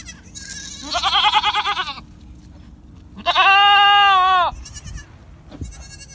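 Goat bleating nearby, two loud wavering calls with a short gap between them, followed by fainter shorter bleats, with no talk.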